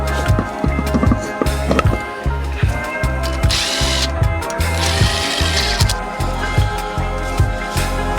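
A ratchet works the lug nuts while a 16-inch mesh wheel goes onto a 1982 Ford Escort, giving close, repeated bursts of quick mechanical clicking in an uneven rhythm, with no talk.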